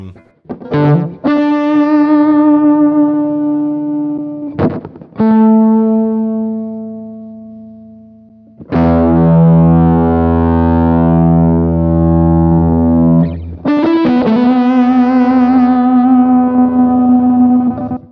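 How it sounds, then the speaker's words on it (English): A BOSS ME-90 guitar multi-effects pedal produces distorted, heavily processed guitar tones that swell and cut off abruptly, with warped, wavering pitch and glitchy stutters between sustained notes. Loud and close. "here's where you get your weird warp, twist, and glitch noises"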